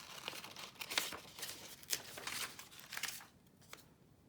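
Paper being fussy cut around a printed flower with scissors for a winter tag, giving a run of close, crisp snips and rustles with short pauses, no talk.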